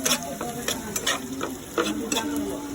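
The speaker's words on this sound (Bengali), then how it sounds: "এখন ইলিশ মাছের সাথে পেঁয়াজ ভেজে নিচ্ছি।" Onions fry in hot oil alongside hilsa fish, giving a close, steady sizzle broken by repeated clinks and scrapes of a spatula stirring the pan.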